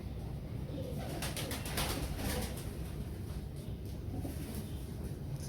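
Soft pigeon cooing runs through steady broadband background noise, low and continuous, with no voices.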